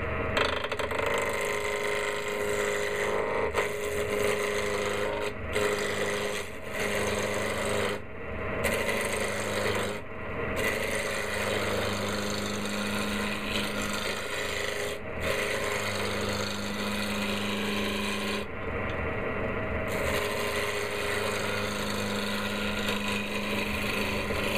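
Wood turning on a lathe while an ear-ring holder is shaped, a steady scraping whir of the tool on spinning wood with several brief pauses where the cut stops and restarts.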